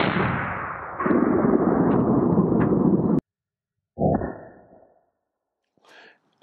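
A full-house .357 Magnum load, a 180-grain Swift A-Frame fired from a fairly long barrel into a bulletproof memory foam pillow, sounds as one sharp, loud report that rings briefly and then goes quiet.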